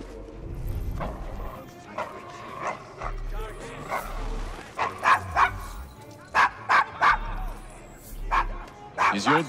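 Dog barking and whimpering in the Assassin's Creed Syndicate video game, Victorian London's Devil's Acre, with repeated sharp barks and yips rising through the second half over game music and background sounds.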